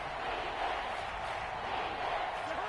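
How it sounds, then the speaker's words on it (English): Football stadium crowd at a Texans game, a dense sustained roar of many voices cheering, loud and steady throughout. "This crowd doing all they can."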